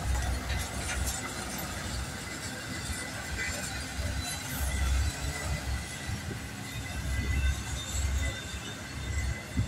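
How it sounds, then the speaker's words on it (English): A UPS freight train rolls past on the rails, a steady loud rumble of wheels and cars with occasional squeals, continuous and close for the whole stretch with no talk over it. "Karen Crass, here is your train. Look, it's UPS."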